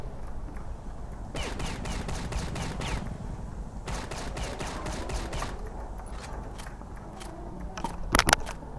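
Shotgun blasts in the video game CrossFire, a rapid series of sharp crackling shots in two bursts, then scattered single reports and a loud final cluster, over a low background hum with no speech.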